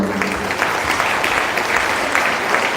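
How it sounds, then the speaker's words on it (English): A school audience at India International School in Japan applauds its veterans, with dense continuous clapping from many hands filling the hall from start to finish and no one speaking over it. "Let's have another round of applause for our veterans, everyone."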